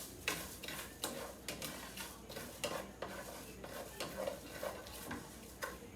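Ham and vegetables brown quietly in a pan under a faint sizzle, broken by regular soft clicks and scrapes of a utensil stirring and tapping the cookware.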